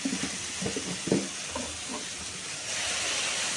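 Ginger garlic paste sautéing in a pan sizzles steadily at close range, with a few stirring scrapes early on, and the hiss rises slightly toward the end.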